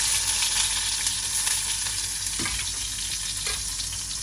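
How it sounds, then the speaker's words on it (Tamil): Mustard seeds and sliced snake gourd frying in a hot pan give a steady, close sizzle with crackling that holds throughout, plus a couple of brief clinks from stirring. "சட்டி சூடாகிட்டு இன்னும் கொஞ்சமாக விட்டு இதுக்கு கடுகு போடுவோம் புடலங்காய் வரையுது"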